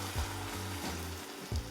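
A can of unsweetened coconut milk poured into a sizzling pan of Thai curry with meatballs and peppers: a close, continuous frying sizzle with a few soft low thumps of liquid landing.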